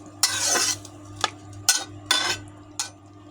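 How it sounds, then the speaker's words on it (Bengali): Small mangoes simmering with a little water in a pan are stirred in several separate scraping strokes, each a short rasp of spatula on metal, close and distinct with quiet pauses between. "আবারও ভালো করে নেড়ে দিলাম"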